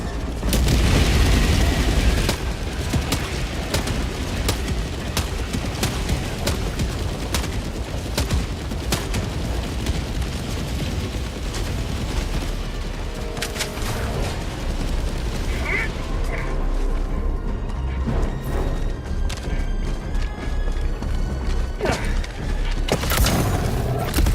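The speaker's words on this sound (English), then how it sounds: "Orbital barrage incoming. Stand clear." Orbital barrage strike in the shooter game Helldivers 2, a dense continuous roar of heavy booming explosions and rumbling blasts for the whole stretch, loud and close, easing slightly before swelling again near the end.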